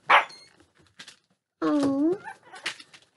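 A Shih Tzu puppy's first bark, a small high yip heard close among short gaps, with a voice speaking softly around it.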